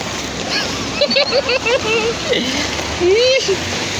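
Splashing as someone wades through flood water after light rain, irregular sloshing steps close by, with people talking and calling out over it.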